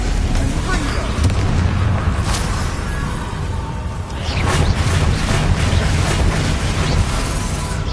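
Confringo explosion spells in the Hogwarts Legacy video game, booming blasts and crackling bursts over a loud continuous rumble of combat, with voices shouting in the game.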